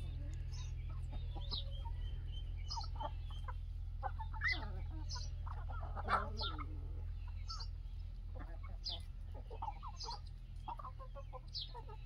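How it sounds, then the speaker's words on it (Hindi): Aseel roosters clucking in a group, with scattered short, sharp clucks and calls over a steady low background hum, fairly faint and continuous. "ये असील मुर्गे बहुत ही बेहतरीन क्वालिटी के मुर्गे हैं।"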